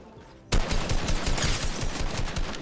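Sudden rapid automatic gunfire in Fortnite, bursting in after a brief quiet moment and rattling on as a dense, loud, continuous volley close by, with no talking over it.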